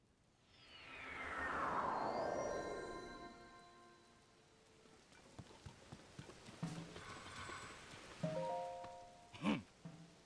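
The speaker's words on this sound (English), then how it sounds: "Can't you see it's raining?" Rain falls in a steady hiss across an outdoor scene in the video game Zelda: Tears of the Kingdom, with faint clip-clopping hooves and a few light game effects mixed in.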